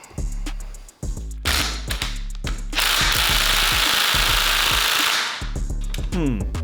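Impact gun working on the cylinder head bolts of an old, long-abandoned Honda CB250 motorcycle. Loud, close bursts of hammering rattle follow one another in rapid succession, with a long sustained burst in the middle.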